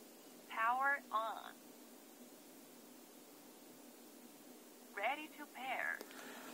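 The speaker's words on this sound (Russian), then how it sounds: "Для того, чтобы включить данные наушники, нажимаем кнопку многофункциональную для двух звуковых сигналов." Bluedio T5 Bluetooth headphones chirp out two short warbling power-on signals, a quick pair of rising tone bursts near the start and another pair a few seconds later, quiet against faint background hiss.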